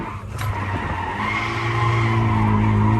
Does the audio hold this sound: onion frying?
no